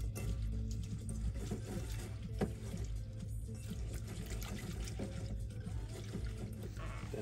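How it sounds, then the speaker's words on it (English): Water runs and pours steadily into a bowl to rinse tomatoes and baby arugula, a faint continuous splashing with a low background hum and no talking. "I'm gonna wash some baby arugula in my bowl, some water,"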